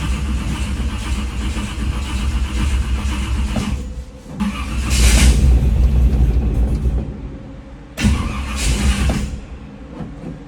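A 1947 Hudson truck engine cranks and fires up, running loud and rough as it revs up and drops back twice, a close rumbling roar that surges then sags without any talk.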